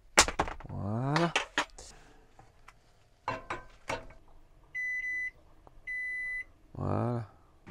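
Microwave oven in a kitchen: clattering and clicks, then a steady hum from the running oven, followed by two long electronic beeps at the finish, with a voice briefly heard.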